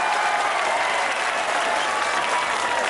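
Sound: audience applause

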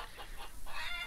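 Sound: chickens clucking, video game Lumberjack's Dynasty

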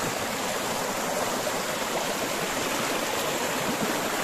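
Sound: fast cold stream water rushing

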